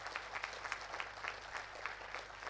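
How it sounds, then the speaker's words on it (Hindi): Applause from an audience welcoming a guest at an award event, a soft, steady patter of clapping that stays fairly faint and even across the whole moment, with no voices over it. "आपको भी जोरदार ताली बजा के इनका स्वागत करो भाई।"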